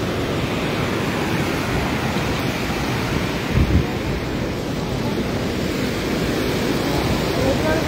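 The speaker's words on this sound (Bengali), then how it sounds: "পানি নামতেছে, যথেষ্ট পানি নামতেছে।" Plenty of water flows down outdoors on a sunny, rain-free day, making a loud, unbroken rushing roar close by, roughened by wind buffeting the microphone.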